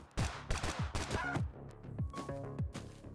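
Rapid gunfire shooting in the Bullet League video game, a string of loud, close repeated shots with brief gaps across the clip.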